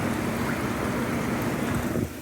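Jets on a Stellar Spas hot tub with a 6 horsepower pump run in a loud, steady rushing churn of water and air, cutting off abruptly near the end.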